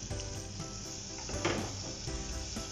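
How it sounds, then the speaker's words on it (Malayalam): Macaroni curry ingredients saute in a pan with salt added, giving a steady, close frying sizzle with a brief louder crackle and clatter midway. "ഇത് നന്നായിട്ടൊന്ന് വഴറ്റിയെടുക്കാം."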